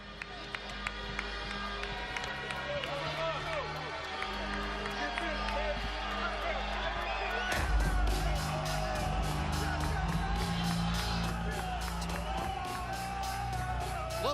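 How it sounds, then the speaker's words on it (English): A boxing arena crowd, heavily pro-Ukrainian, cheers as Lomachenko makes his entrance. A broad roar with clapping and yells swells midway and stays loud, and a commentator's voice carries over the noise. "this is a heavily pro-Ukrainian crowd"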